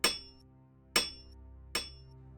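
A stone bas-relief face, hidden behind a wall for nearly sixty years, is chipped out with three sharp, ringing hammer-and-chisel strikes spaced evenly and close by, each decaying quickly into quiet.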